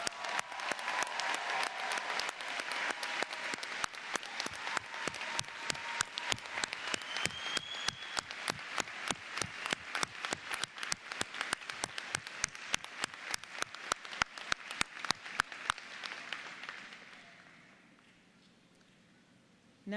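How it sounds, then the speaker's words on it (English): Graduation audience at a college ceremony applauding the class of 2018 with sustained, rhythmic clapping that grows into strong unison beats before fading out toward the end. "would you please join me in a round of applause for the class of 2018"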